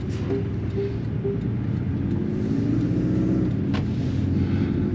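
A new Porsche with an automatic gearbox drives along a road, a steady low engine and road rumble heard from inside the car, with no talk.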